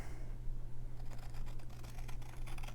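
Scissors snip through pattern paper for a handmade card, a quick run of crisp close cuts starting after a quiet moment over a low steady hum.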